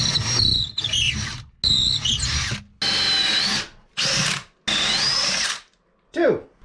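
A power drill bores holes in a wooden boat in several loud bursts, whining up and winding down with short pauses between them. Brief talk can be heard near the end.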